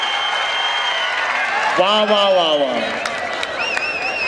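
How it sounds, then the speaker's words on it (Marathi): A crowd at a Pune versus Kolhapur kabaddi match claps and cheers after a strong tackle, a broad steady wash of applause under a commentator's excited, close-miked exclamations, with a whistle sounding near the end. "एकदा जोरदार टाळ्या या पकडीसाठी आणि कोल्हापूरच्या संघासाठी."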